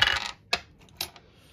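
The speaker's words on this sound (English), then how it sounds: "we got dice all over the place." Plastic game dice clatter and scatter across a table during a toy tabletop game: an initial burst of rattling followed by a few separate sharp clicks as they settle, close and fairly quiet with no talk.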